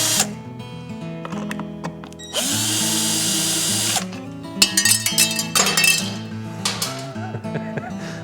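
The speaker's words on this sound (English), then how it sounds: "Use a 3/16 hex head to remove the cover." Power drill fitted with a 3/16 hex bit backs out fasteners on a motorcycle seat cover during a Screaming Eagle Stage 1 install, loud bursts of whirring with metallic clinks of parts and tools between runs.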